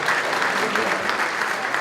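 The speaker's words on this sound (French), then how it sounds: "Applaudissez le Hajja, s'il vous plaît" Audience applause fills a charity gala for a community centre, a dense steady clapping that runs unbroken and fairly loud from start to finish.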